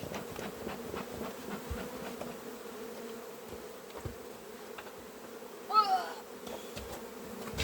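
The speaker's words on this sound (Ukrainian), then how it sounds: "Повно, бджоли море, не можна зігнати." A steady drone of many bees buzzing close by around a beehive, a continuous low hum with occasional louder passes of individual bees near the microphone.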